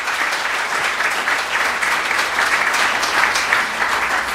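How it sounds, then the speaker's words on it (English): Dense, sustained audience applause at a charity gala, steady and fairly loud throughout with no break, no talking over it. "They deserve your applause."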